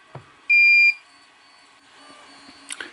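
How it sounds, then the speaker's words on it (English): A Mongoose scanner gives a single clean, steady electronic confirmation beep lasting about half a second, loud and alone, followed by faint handling noises and a couple of small clicks. "and I'll hear a confirmation beep."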